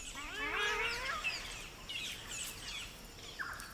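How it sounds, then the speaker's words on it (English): Wild birds call at fruiting trees: several overlapping chirps and sweeping whistles, bunched in the first half, then sparser calls over a faint, steady background. "The local birds gather at trees that are fruiting."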